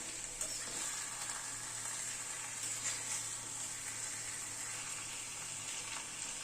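Mourala fish curry with raw mustard oil and two slit green chillies simmers and sizzles softly in a pan while being stirred, a steady low hiss with faint scraping and no voices.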